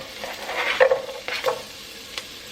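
Garlic and serrano peppers hit a hot pan for poblano enchilada sauce, giving a few short sizzling bursts mixed with stirring scrapes, close by and moderately loud, with no talking.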